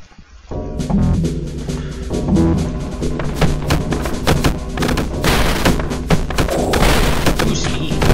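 Gunfire in Superfighters Deluxe, with rapid, loud shots and heavy thuds cracking repeatedly over busy game music and effects.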